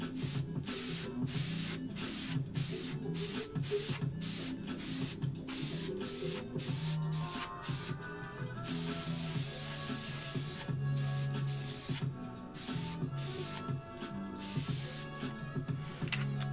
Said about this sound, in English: just laying down a base tone there with my marker and my spray paint thingamajigga